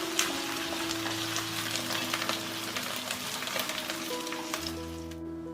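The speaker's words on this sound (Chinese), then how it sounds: "再把水分给它煎干了。" Chicken wings sizzle and fry in a pan with ginger and garlic, a steady crackling hiss with scattered pops and occasional stirring, loud and close throughout with no talking.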